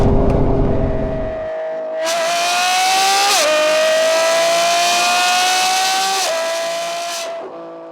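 A Lamborghini Revuelto with a Gintani exhaust, loud and close. A rough burst cuts off, then a brief gap gives way to a long, high, sustained rev that climbs in steps, holds, and drops away sharply at the end.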